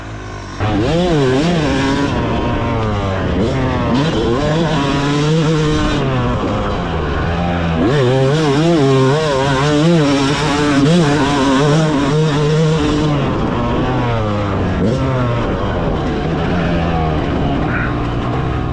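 A Yamaha 125 YZ GYTR two-stroke motocross bike engine revs hard and repeatedly, rising and falling in pitch, loud and close with no talking.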